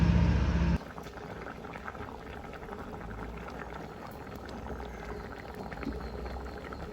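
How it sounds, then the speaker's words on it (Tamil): A pot of spicy crab curry bubbles at a low, steady simmer after a brief louder noise at the start, with soft continuous gurgling throughout. "உப்பையும் போட்டு கொதிக்கட்டும்"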